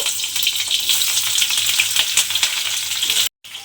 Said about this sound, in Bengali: এবারে এই তেলের মধ্যে কাঁকরোলগুলো সব দিয়ে দেব।